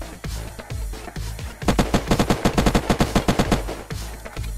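Rapid automatic gunfire in the modded survival game Unturned, a dense burst of evenly spaced shots that starts after a quieter stretch with scattered reports, loud and close throughout.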